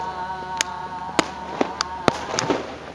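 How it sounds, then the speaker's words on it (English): Fireworks burst low over the water at Toyako Onsen, Japan, sharp cracks going off every half second or so, with a boat passing and a steady hum of crowd noise beneath. "These fireworks are exploding down lower."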